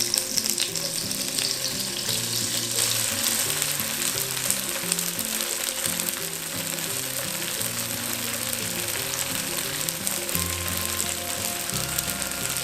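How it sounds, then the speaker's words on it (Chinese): Cubes of dried tofu frying in oil in a wok while being browned for a vegetarian dry-pot cauliflower dish, a steady close sizzle with bright crackle throughout, no voices. "我们再补一点油，把我们的豆干也煸到金黄色"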